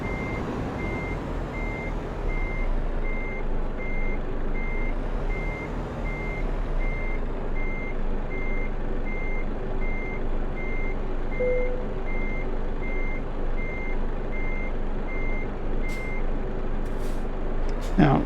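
A truck hauling a car trailer backs up with its reverse alarm beeping at a steady, even rhythm over a low engine rumble, with a brief hiss of air brakes near the end and occasional talking.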